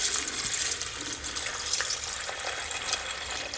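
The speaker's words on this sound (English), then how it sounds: "So I'm just going to add tap water to this thing." Tap water pours from a jug into a case-cleaning tumbler holding ceramic media and brass cartridges, a steady splashing, hissing stream heard close and alone.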